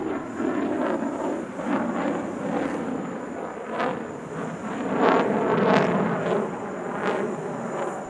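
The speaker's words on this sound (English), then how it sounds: "This was described officially as a flying display appearance by a Sukhoi Su-57E" A Sukhoi Su-57E jet flies a solo display at the Dubai Airshow 2025, its engine roaring loud and continuous with a rough, swelling rush that builds toward the end, no voices over it.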